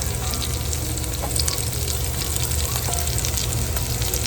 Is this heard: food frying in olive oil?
yes